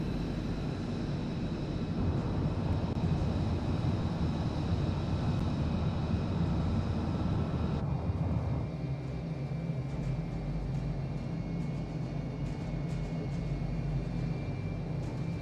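A simulated aircraft in Microsoft Flight Simulator flies low and fast, giving a continuous engine and wind roar that shifts to a lower, steadier drone about halfway through, with no voices.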